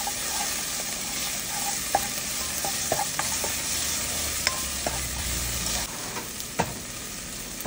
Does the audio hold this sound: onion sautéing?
yes